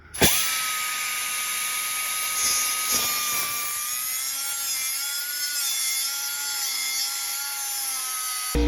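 A power tool cuts continuously through the front end of a Dakota truck, a steady high-pitched whine with a loud grinding cut running close and unbroken from start to finish, with no talking.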